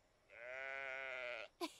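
A sheep gives one drawn-out, fairly quiet bleat of about a second in a cartoon farm scene, followed by a short, sharp sound.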